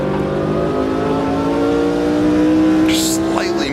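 A 1969 Brabham BT26 race car at Silverstone in Automobilista 2, its engine droning loud and steady at high revs with a slowly falling pitch, then a brief squealing sweep near the end.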